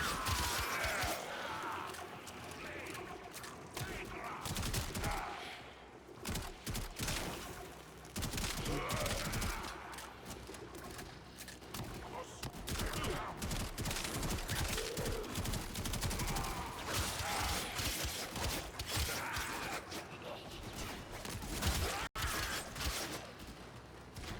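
Sustained gunfire in the video game Warframe, dense rapid bursts of shots aimed at a target, loud and nearly continuous with brief lulls, mixed with mechanical clanks and impact crashes and no speech.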